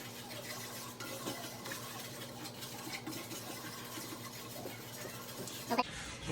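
A wooden spatula scrapes and stirs through oil and flour in a frying pan, a steady close shuffling texture with light clinks, ending in a sharper knock.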